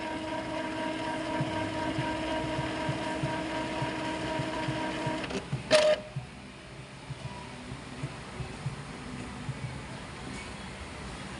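An Epson L3210 printer undergoing manual cleaning hums mechanically as its print head moves, with a short clunk and rattle near the middle before the motor noise drops back to a quieter hum.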